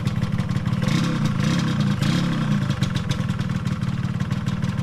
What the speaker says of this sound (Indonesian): Suaranya halus banget karena knalpotnya masih orisinil